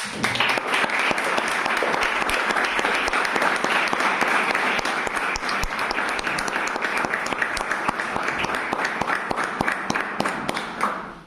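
An audience gives a loud, sustained round of applause for a speaker at a short talk, dense clapping that holds steady before cutting off.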